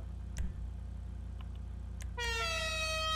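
The arena car horn of a Dinka Jester RR in GTA 5 sounds a loud, sustained multi-tone blare over a steady engine hum, following a couple of faint clicks.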